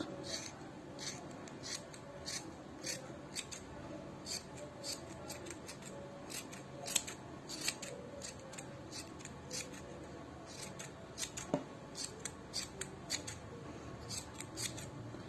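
Scissors snipping through excess yarn to trim a handmade pompom, a steady run of quiet, crisp cuts in an irregular rhythm, close up with no talk.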